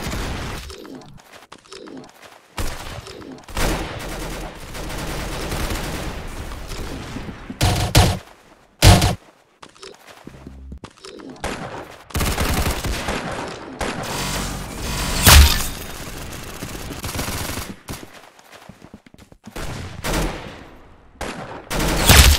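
Gunfire from a Roblox Arsenal match: irregular bursts of rapid shots with sharp cracks, loud and close, broken by short quiet gaps.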